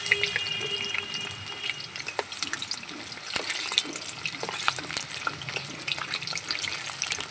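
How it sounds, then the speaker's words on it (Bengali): Khaja (gaja) pastries sizzle steadily as they fry in hot oil, a continuous crackling hiss with scattered pops that runs unbroken and fairly close. "খাজাগুলো আমার ভাজা হয়ে গেছে"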